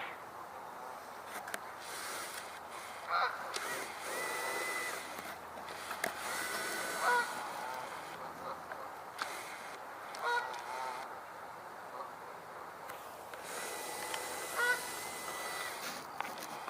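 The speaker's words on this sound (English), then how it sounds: "Geese are coming closer." A flock of geese honks intermittently in an outdoor setting, calls spaced every few seconds and swelling slightly as they approach, over a constant low background hiss.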